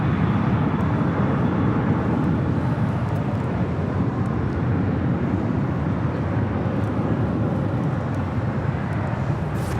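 An MD-11 jet departing LAX on its way to Shreveport, Louisiana, producing a steady, broadband engine roar that holds loud and constant throughout with no voices.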